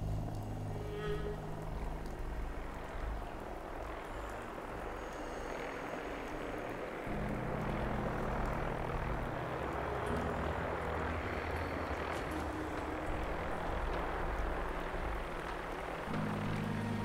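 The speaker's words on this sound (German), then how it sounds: "dass da drüben eine Wirtibird fliegt." A Vertibird aircraft drones past in the Fallout 4 game world, a low rotor rumble holding steady with a shift in its throb partway through, heard at a moderate distance without talk.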